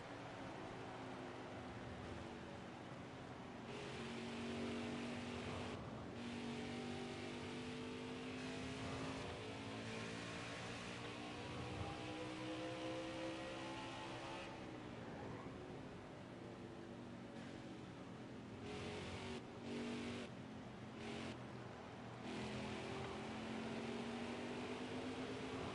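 NASCAR Xfinity race cars at New Hampshire roar past under green flag, engines droning and rising and falling in pitch in a continuous, fairly close pack with no talk over them.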